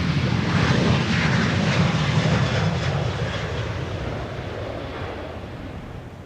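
A departing airliner at Minneapolis–St. Paul airport roars steadily in a broad, loud engine rumble and rush, slowly fading as it moves away, with no talk.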